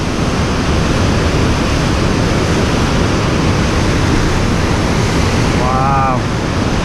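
Water rushing under pressure through an Erie Canal lock, a loud continuous broadband roar of churning flow and splashing spray close by, steady for the whole stretch.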